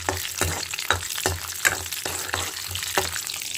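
Seeds tempering in hot oil for peanut chutney in a home kitchen, a steady close sizzle broken by sharp crackling pops every half second or so, with no talk.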